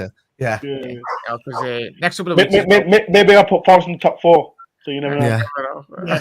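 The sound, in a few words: dog barking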